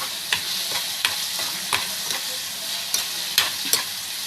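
Ginger garlic paste fries in hot oil for a fish curry with a steady, close sizzle. A spoon or spatula scrapes the pan in repeated short strokes. No one speaks.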